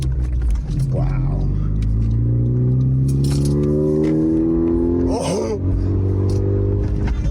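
Car with a catless exhaust revving from inside the cabin, loud rising and falling engine sweeps with rattling, while people exclaim over it.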